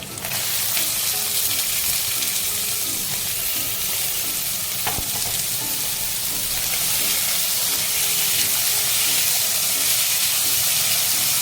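Chopped onion and red capsicum sizzle steadily in a hot pan for chicken pasta bake, a dense continuous frying hiss with light stirring, close and even throughout, no voices.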